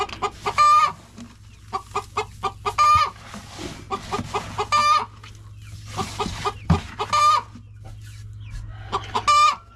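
A flock of chickens on a farm clucks and squawks in repeated loud bursts close by, some calls rising toward crows, over a steady low hum, with no speech.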